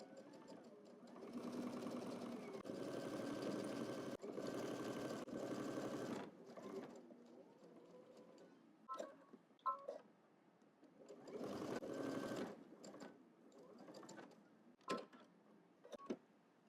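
A sewing machine back-stitches along a double-breasted jacket collar in several separate runs of close, rapid stitching. Short pauses and small handling clicks fall between the bursts.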